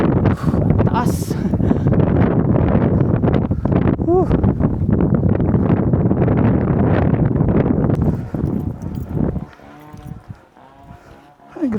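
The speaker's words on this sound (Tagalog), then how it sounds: "Grabe ang hangin, sobrang lakas." Strong wind gusting across a limestone mountain top on the Sagada Loop, a loud continuous roar buffeting the microphone under steady talk, easing to quieter wind and clearer voices near the end.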